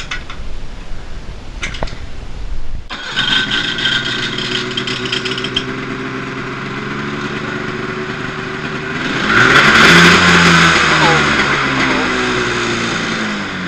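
A new 600cc engine is cranked with a few short bursts, then catches and runs steadily, idling loudly before revving up higher near the end.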